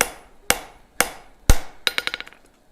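Hammer blows forging hot steel on an anvil: four heavy evenly spaced strikes, then a quick run of lighter bouncing taps, close and ringing.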